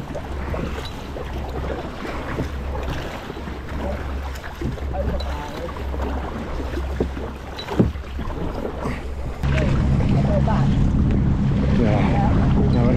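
Kayaks paddled through open water off Hayling Island, with splashing and sloshing strokes under wind rumble while people talk over it, and the motion noise swells louder near the end.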